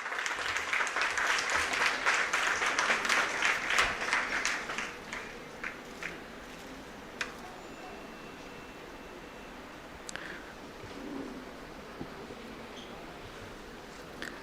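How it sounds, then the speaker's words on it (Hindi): An audience at an annual school prize distribution function applauds loudly for about five seconds. The clapping then thins to a few scattered claps and rustles in a quiet hall. "जोरदार तालियों से सर का इस्तकबाल किया जाए।"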